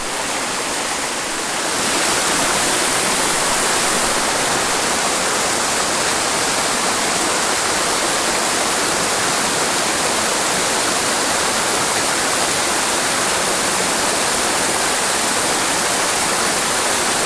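A small waterfall on a creek in Michigan rushes steadily, a constant loud hiss of splashing water that starts just after a brief quieter moment and continues unchanged.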